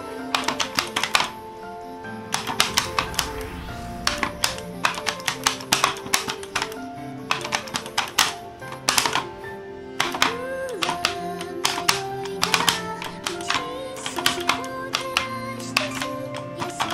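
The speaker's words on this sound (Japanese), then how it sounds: "これキーボードで打つしかない。" Keys struck on a computer keyboard while playing the rhythm game DJMAX Respect V, a steady run of sharp clicking taps in quick bursts over busy game music throughout.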